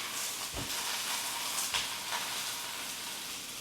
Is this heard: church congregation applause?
no